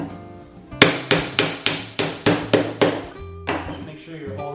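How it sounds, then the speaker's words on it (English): A hammer drives nails into wood while a simple birdhouse is built, about nine crisp, evenly spaced blows in quick succession, close and loud, followed by a pause and a final strike. "be very careful when nailing this down"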